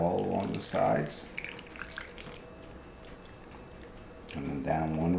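Mountain Dew is poured from a small can along the sides of an apple dumpling casserole, a soft steady liquid trickle between bursts of talk.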